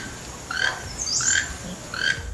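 Toucan giving three short raspy calls, a hoarse cackling croak like a frog with a cold, moderately close over faint background noise.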